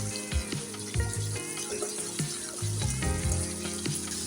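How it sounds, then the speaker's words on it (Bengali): Mashed potatoes dropped into sizzling masala in a pan for a bhindi curry, a close steady frying hiss broken by repeated thumps and scrapes of a spoon. "এবার এই মেখে রাখা আলুগুলো আমি এর মধ্যে দিয়ে দেবো"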